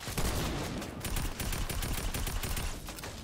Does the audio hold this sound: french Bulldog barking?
no